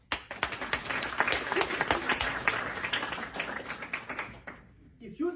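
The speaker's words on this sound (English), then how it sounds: "Please clap for me." An audience claps in a brief burst of scattered, uneven hand claps close by, thinning out and stopping near the end, with a faint murmur of voices underneath.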